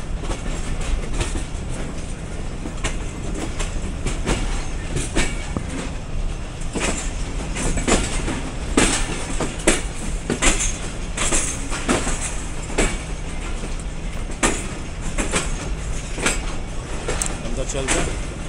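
The Shalimar Express, a Pakistani passenger train, runs steadily on the rails with a rhythmic clickety-clack of wheels over joints and a constant rolling rumble, heard from on board, close and sustained, with people talking at times.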